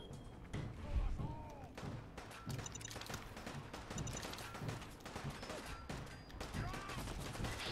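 Bursts of gunfire in the video game Fallout 4 crackle in quick volleys, some near and some farther off, with intermittent thuds and game effects throughout.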